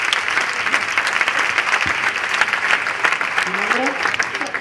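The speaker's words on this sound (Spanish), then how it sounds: "pues un aplauso." Audience at a mentalism stage show gives a short burst of steady applause, dense clapping filling the room with a voice briefly over it.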